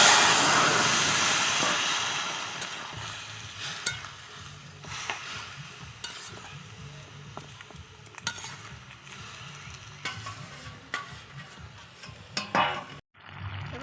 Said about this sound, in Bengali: এবার আমি এই যে সেদ্ধ করে রাখা কুমড়োর শাক দিয়ে দিচ্ছি